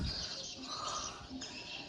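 Birds sing and chirp near a balcony at a rental property in Siem Reap, Cambodia, with bright, overlapping calls carrying steadily through the background.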